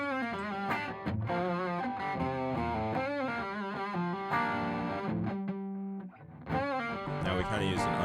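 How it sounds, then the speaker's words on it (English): A Gibson Les Paul electric guitar plays chords and notes through a TS9 Tube Screamer distortion pedal, dense and sustained, with a brief pause before the playing resumes. "It almost sounds like there's like a dry and a wet mix, and you can hear the clean signal unaffected on top of the distortion."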